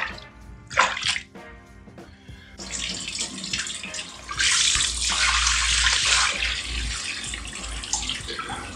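Shower water running over a pet monitor lizard in a shower, a loud steady spray and splashing that builds midway, with a few clattering knocks and scrapes early on, no talking.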